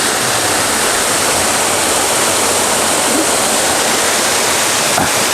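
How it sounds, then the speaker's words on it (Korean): Water rushes continuously over Yongmun Falls, a steady close, loud roar of falling water with no voices or other sounds breaking through. "이 근처 앉아서 하면은 이 물소리 때문에 사람들이 와서 떠들어서 들리지도 않아요."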